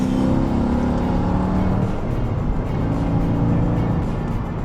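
A Mercedes AMG wagon engine roars loudly as it accelerates, its pitch climbing then settling into a steady drone, heard from inside or close by.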